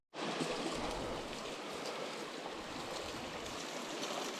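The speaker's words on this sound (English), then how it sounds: "Nice little creek" A small creek flows through the bush in a steady, broadband rush of water that runs from start to finish, with no voices.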